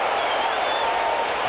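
A large baseball crowd at Shea Stadium in 1981 cheers and applauds after a Mets base hit, a dense steady roar of clapping and shouting held at an even level.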